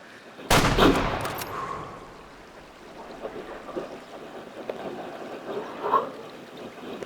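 A single loud hunting rifle shot in Way of the Hunter, set in Transylvania, sharp and close, then a long fading echo over quiet outdoor ambience, with a fainter sound later.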